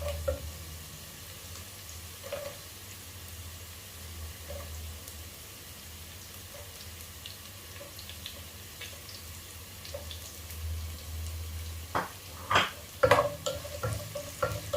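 Chopped coconut pieces dropped into hot oil in a pan, a quiet steady sizzle with low hum, then a cluster of sharp clinks and scrapes of stirring near the end.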